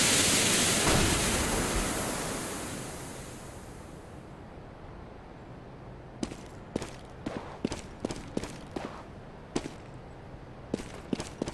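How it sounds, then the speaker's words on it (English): A smoke grenade in the game CS:GO bursts with a loud, broad hissing rush that fades over about four seconds, followed by a series of sharp, clicky footstep-like taps spaced irregularly. "Throwing smoke."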